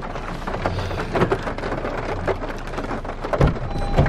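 Steady spring rain drumming on a car while driving, a dense continuous hiss with faint scattered patters and a few low thumps, heard alone without talking.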